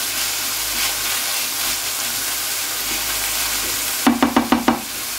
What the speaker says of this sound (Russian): мы с вами пережариваем лучок до золотистого цвета